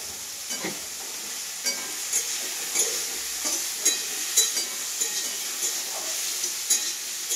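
Brinjal pieces fry in a hot pan for a cooking vlog, a steady oily sizzle broken by repeated close scraping strokes of a spatula stirring them, with no talk.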